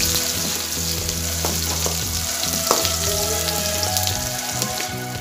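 Finely chopped onion fries in hot oil tempering in a pan for traditional jhunka pithla, giving a steady, close sizzle with occasional scrapes and clicks of stirring throughout.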